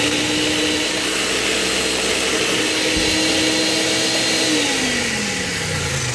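A blender runs steadily, mixing paleo brownie ball ingredients. It is a loud, continuous motor whir whose pitch drops near the end as the load changes.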